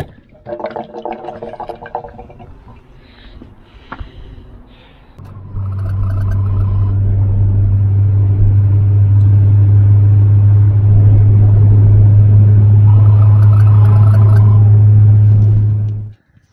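A Volvo 740 car with a leaking differential, engine droning loud and steady as it drives and accelerates, a deep continuous rumble that holds for about ten seconds before cutting off, after quieter clunks and handling noises.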